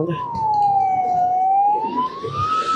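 An ambulance siren wails close by on the road along a motorbike touring route through Kalimantan, one sustained rising and falling tone that holds loud throughout over steady traffic rumble.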